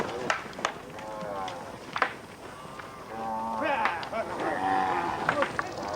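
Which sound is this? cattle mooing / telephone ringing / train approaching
cattle mooing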